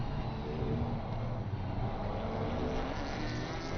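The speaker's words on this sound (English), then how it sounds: "You can actually hear the engine ahead clearer than you can hear the engine we're on board with at the moment" Porsche Cup race cars in a sim racing league, engines droning steadily and loud throughout, with another car's engine ahead blending into the onboard car's roar; no one talks.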